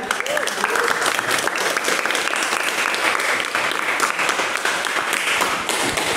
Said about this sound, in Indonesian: Kita beri aplaus dulu untuk kita semua.